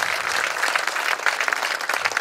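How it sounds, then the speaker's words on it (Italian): A crowd applauds loudly and continuously at an award ceremony, a dense wash of many hands clapping at once. "Un applauso a Teresa Emanuela Colaci,"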